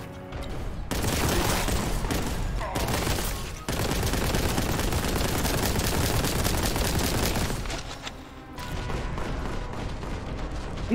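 Gunfire in the Warhammer 40,000: Boltgun video game: dense, loud, sustained volleys of rapid shots and booms that break off briefly twice, with no talking over them.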